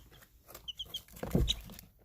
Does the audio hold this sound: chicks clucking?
yes